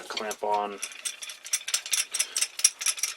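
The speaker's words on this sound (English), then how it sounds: "I'm just going to get some clamps off the wall here" Metal clamps come off a wall in a woodworking shop, a quick burst of clanking followed by rapid ratcheting clicks and rattles, close and fairly loud.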